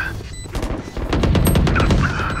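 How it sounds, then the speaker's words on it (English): Rapid crackling bursts of gunfire and explosive blasts in a Valorant match, a dense fusillade of sharp reports building into a louder sustained volley with heavy low booms. "She really threw a grenade"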